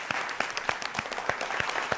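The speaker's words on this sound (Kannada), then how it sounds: "ಬರಲಿ ಜೋರಾದ ಚಪ್ಪಾಳೆ." Loud, steady applause from a studio audience at a Kannada singing reality show, dense clapping with sharp individual claps standing out, continuing alone without speech.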